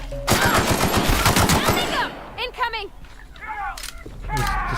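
Loud rapid automatic gunfire in The Outer Worlds video game, a dense close burst followed by scattered shots and game effects, with a voice speaking over it.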